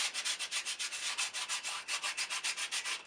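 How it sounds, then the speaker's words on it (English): A flat sheet of medium-grit sandpaper is rubbed across the surface of a model rocket, making a steady run of quick, even scraping strokes, close and alone, with no talking. "when I do the surface, I'm going to use just a flat piece of sandpaper"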